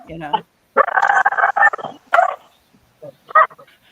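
Dogs bark and yip in several close, loud bursts with short pauses between them, over a background of people talking.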